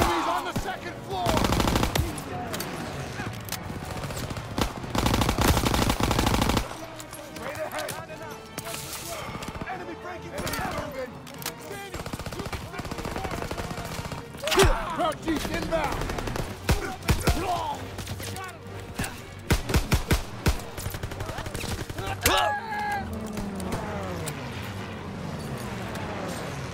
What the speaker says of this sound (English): Cover fire from the left!